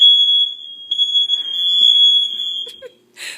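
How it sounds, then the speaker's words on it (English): A smoke detector shrieks while cooking in a home kitchen, one loud steady high-pitched tone held for nearly three seconds before cutting out, followed by a short rustle. "Smoke detector, it keeps going off."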